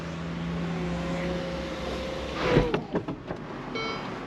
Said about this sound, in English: What we're going to do is actually take the roof off.